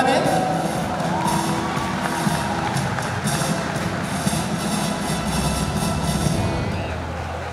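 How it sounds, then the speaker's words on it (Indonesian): A prom night crowd gives a long burst of dense applause mixed with cheering and whoops, steady and loud throughout, filling the hall without a break. "kita beri tepuk tangan yang paling meriah untuk perwakilan dari Homer"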